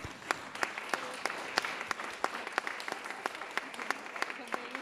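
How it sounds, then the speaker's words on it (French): Applause for two farmers at an ecology talk on trees and hedges, moderate clapping with a few sharp, distinct claps standing out in a loose rhythm above the crowd. "j'aimerais qu'on les applaudisse"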